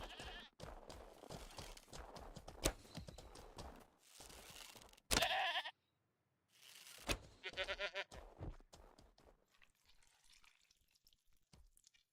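Goats bleating in the online game Mortal Online 2, several short bleats scattered across the clip amid in-game action noises, with gaps of near silence between bursts.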